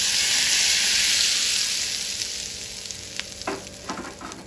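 Tadka with red chili powder poured onto dal fry: a loud, bright sizzle that bursts up at once, then slowly fades, with a few light clinks and stirring scrapes near the end.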